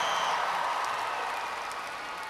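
Audience at a world finals opening ceremony applauding, a dense, steady wash of clapping that slowly fades over a couple of seconds.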